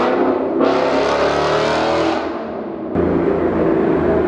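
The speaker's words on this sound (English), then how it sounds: "I want to go ahead and show you guys a few tunnel pulls so you can hear exactly how it sounds" A 2019 Ford Mustang GT V8 revs hard in a tunnel, engine and exhaust roaring through a rising pull, briefly easing off during a shift, then surging again, loud and echoing.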